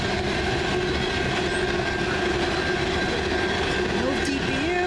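A CN freight train rolls past in Ladysmith with a continuous loud rumble, rhythmic clatter of wagons and occasional squealing wheels, steady and close throughout.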